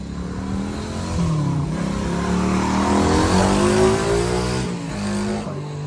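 A loud small motorcycle engine revs up and holds a rising, buzzing drone close by, then eases off near the end.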